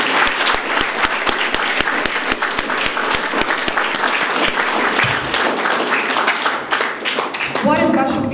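Audience at a camp opening gives loud, sustained applause for the president of Čajetina municipality, with sharp rhythmic claps standing out early, then fading as a voice begins speaking at the end.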